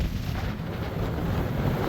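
Strong wind roars and buffets the microphone at Central Crater on the Tongariro Crossing, New Zealand, in a steady, dense rumble, loud and unbroken throughout.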